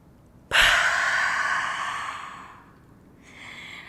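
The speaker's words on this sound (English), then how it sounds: "on that exhale, push the breath out, make it a little more audible" A single forceful, audible exhale during a yoga breathing exercise, a close breathy rush that starts abruptly and fades over about two seconds, followed by a softer breath.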